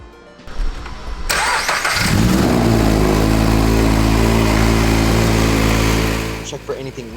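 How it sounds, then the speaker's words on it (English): A Toyota GR86 fitted with an HKS turbo kit cranks briefly, then fires up and settles into a loud, steady idle, with a deep rumble held close for several seconds before it fades slightly. "Now your GR86 is ready for its first start."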